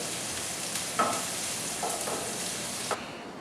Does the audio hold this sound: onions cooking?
yes